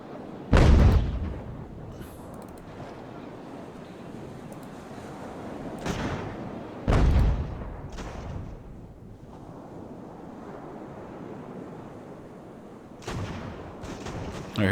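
Ship cannons firing in the naval game Ultimate Admiral: Age of Sail, several heavy booming blasts at uneven intervals with rumbling decay over a constant wash of sea and wind.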